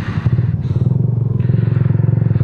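Loud, close exhaust of a Yamaha New Jupiter MX motorcycle fitted with a DBS racing muffler, with a rapid pulsing throb, steady and strong for a couple of seconds.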